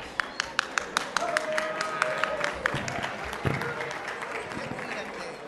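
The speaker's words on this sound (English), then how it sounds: "how about a big round of applause" Applause from an audience at a Roaring Twenties revue with an orchestra at the Cicada Club, a steady wash of clapping with a few sharper claps standing out, running under faint background sounds.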